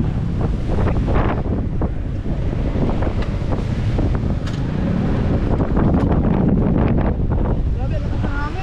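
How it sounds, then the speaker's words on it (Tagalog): Strong wind roars steadily against the microphone on a mountaintop, with constant buffeting rumble and faint voices underneath. "Grabe, lakas ng hangin."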